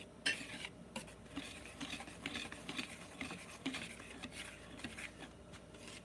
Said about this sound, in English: And when you guys are whisking these ingredients,